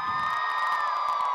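A crowd cheers and whoops at an exercise-dance event, children among them, in a brief sustained roar with a steady tone, and no clear speech.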